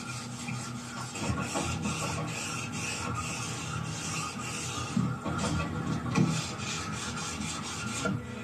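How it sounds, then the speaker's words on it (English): Lubricated sanding of a Mazda RX7 13B rotary engine's rotor housing: continuous raspy rubbing in long, even strokes, close and steady throughout. "After sanding the rotor housing,"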